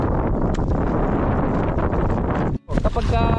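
A small boat's motor runs weakly and steadily at sea, buried under heavy wind buffeting and water noise, with a brief dropout about two-thirds through.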